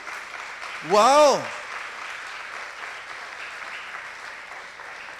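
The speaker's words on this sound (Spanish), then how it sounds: "denle un buen aplauso" A church congregation applauds during a Spanish-language sermon, a steady sustained wash of clapping throughout, with the preacher's brief exclaimed word near the start.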